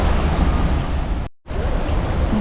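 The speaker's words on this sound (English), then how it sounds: "A water feature with a temple in the middle." Water splashing steadily in a garden water feature with a small temple in its centre, a loud continuous rushing wash broken by a brief cut to silence midway.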